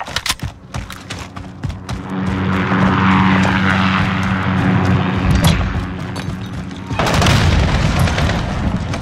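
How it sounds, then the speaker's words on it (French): Enemy drone buzzing overhead in Call of Duty Modern Warfare 2019 Drop Zone mode, a loud droning engine roar mixed with booms and explosions, swelling again near the end. "Drone ennemi au-dessus."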